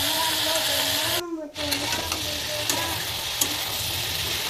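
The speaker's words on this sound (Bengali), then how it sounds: "ওই তেলে আমি ফুলকপিগুলো সুন্দর করে ভেজে নিব।" Cauliflower florets frying in oil with turmeric and salt, a close, continuous crackling sizzle broken by a brief hush and stirring scrapes partway through.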